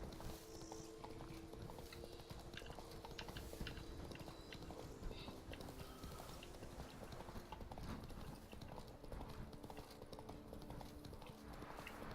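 A horse's hooves clip-clop in a steady walking rhythm in The Witcher 3: Blood and Wine, soft and fairly distant against low ambient game sound.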